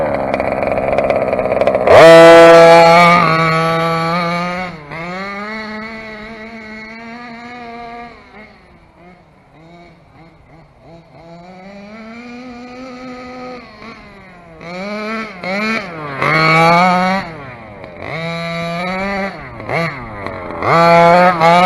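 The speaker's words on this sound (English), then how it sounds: "she accelerates so nice." A Dragon Hammer V2 vehicle accelerates with a loud, high engine whine that climbs and falls in pitch, easing to a quieter idle midway before several more sharp revving surges.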